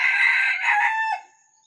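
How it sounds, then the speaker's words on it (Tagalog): A red junglefowl rooster gives a single short, bright crow up close, rising then trailing off after about a second into silence. "Ito naman yung good news sa akin, tumitilaok na siya."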